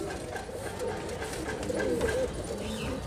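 Kalsire and Kalmuhe high flyer pigeons, a breed famed around Jaipur and Tonk, coo in a steady murmuring stream close by, with soft throaty notes rising and falling and a faint voice beneath.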